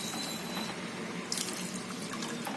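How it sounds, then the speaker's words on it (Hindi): Water poured from a glass into a pot of soaking rice for Hyderabadi mutton tahari, a steady close splashing pour with a brief louder gush midway, no talk. "तो ये 1 गिलास हम पानी डाल देते हैं।"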